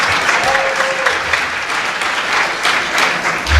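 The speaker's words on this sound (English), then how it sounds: "Let's give them another round of applause." Dinner audience at a roundtable event applauding steadily, a dense wash of clapping from a room full of people that holds level throughout without letup.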